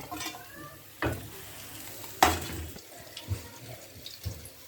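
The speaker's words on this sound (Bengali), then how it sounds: "এইভাবে আমরা বাকি সব মাছগুলোই ভেজে নেব" Pabda fish fry in oil in a kadai, a soft sizzle broken by two sharp metallic clanks of a utensil against the pan and a few lighter scrapes and taps; no speech.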